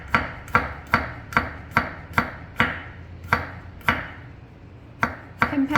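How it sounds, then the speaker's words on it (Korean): Garlic minced with a kitchen knife on a cutting board, a steady run of sharp knife strikes, about two per second, close and clear with no talking. "마늘부터 다져 볼게요."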